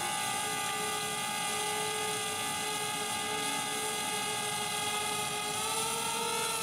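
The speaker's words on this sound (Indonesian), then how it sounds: "drone-nya langsung naik sesuai dengan ketinggian yang kita setting" A DJI Spark drone takes off with a high, steady whine of small rotors humming continuously, holding a constant pitch as if hovering nearby, with no speech.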